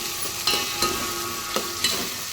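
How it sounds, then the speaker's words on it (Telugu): Curry leaves and green chillies sizzling in hot oil for a fish pulusu, a bright steady crackle with a few sharp spatter pops and stirring scrapes, close and alone. "తర్వాత కరివేపాకు, పచ్చిమిర్చి ఘాటు పెట్టుకుంది వేసేస్తాం"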